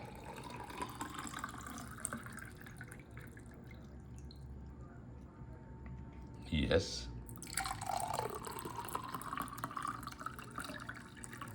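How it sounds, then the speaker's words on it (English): Water pours and trickles into a glass, a gurgling stream with rising pitch as it fills, amid quiet room sounds and a short spoken reply. "Should I pour you some water, as they do in the restaurants?"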